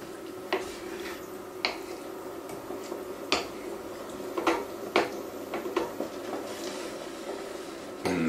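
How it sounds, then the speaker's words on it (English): Bolognese mix being stirred in a pan: soft sporadic spoon clicks and wet squishy scrapes at an uneven, unhurried pace, close by and fairly quiet. "I have to be quite careful not to spill my bolognese mix while I'm stirring it"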